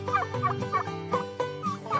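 Adult turkeys gobble in a farmyard, a series of rapid, warbling gobbles repeating in quick bursts about every third of a second, loud and close with no talking.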